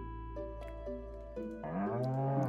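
A cow in a farming video game gives a drawn-out, low bellowing moo that rises and swells near the end, heard over steady background game music.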